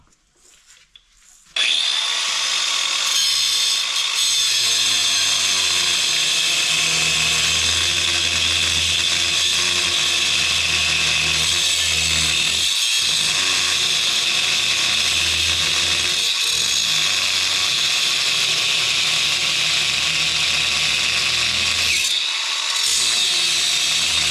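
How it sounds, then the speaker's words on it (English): A loud power tool grinds steadily for about twenty seconds, cutting bolts off a weight for a John Deere 5045E tractor, with a harsh metallic whine that runs continuously after a brief quiet start. "cutting these bolts off"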